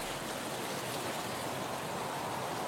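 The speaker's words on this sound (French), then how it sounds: "Cette cascade naturelle de près de 275 mètres est la plus haute de Norvège." Vettisfossen, Norway's tallest natural waterfall at about 275 metres, roars as a steady, broad rush of falling water with no pauses, loud and continuous throughout.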